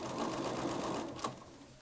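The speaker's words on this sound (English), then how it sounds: "We're simply matching the stay stitching and the registration mark as we sew." Sewing machine stitching along stay stitching and registration marks on fabric, a steady close whirring run that eases off near the end, with no talk over it.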